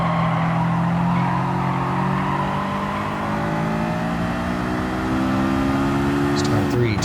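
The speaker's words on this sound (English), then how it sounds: "Braking hard at the 350 point to keep the car straight. Evenly spaced downshifts all the way to 2nd" Honda S2000 in Gran Turismo 7 at Grand Valley Highway braking hard with evenly spaced downshifts, engine pitch stepping through gears in a steady loud drone with tyre noise.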